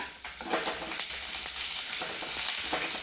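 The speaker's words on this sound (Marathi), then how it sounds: "खोबरं थोडंसं असं लालसर झालं की त्यामध्ये थोडंसं आलं आणि लसूण घालायचं" Ginger and garlic fry with coconut in hot oil, a dense, close sizzle that crackles throughout with brief stirring scrapes, no one talking.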